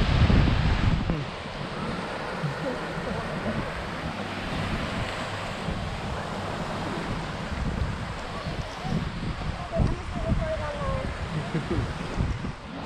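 Wind blows hard outdoors beside the water, a steady roaring buffet across the microphone with surf-like rumble underneath and a few stronger gusts.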